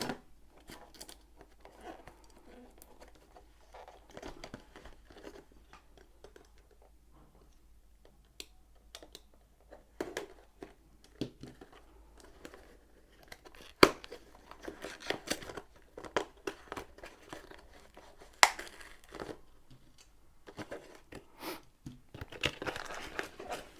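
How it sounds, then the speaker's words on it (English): Packing tape peeled off a cardboard box for a Diamond Dotz diamond painting kit, giving a long run of crinkly tearing and crackling bursts that come and go, close and fairly quiet, with no talking. "So let's get this tape off."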